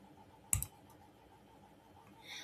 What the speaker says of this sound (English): In the bottom right corner, click Customize Chrome.